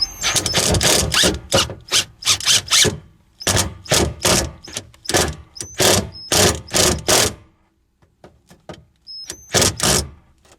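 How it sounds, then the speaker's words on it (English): Small 1/4 inch impact gun driving screws into a Crown Victoria police car's gas tank, loud close bursts of rapid hammering in several runs with short pauses, then a few brief final hits. "I take a little 1/4 inch impact gun"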